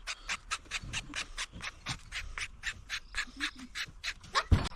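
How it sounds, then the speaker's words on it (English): A hand file dresses the cut ends of wooden dowels, quick repeated rasping strokes in a brisk back-and-forth rhythm, close and moderately loud, with no talking. "Just dress up the ends with a file."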